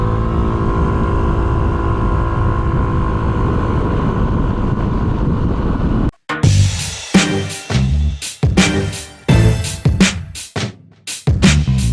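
Yamaha Smax 155 scooter on a highway, a loud steady engine drone with heavy wind rush for several seconds, then choppy gusting wind noise cutting in and out.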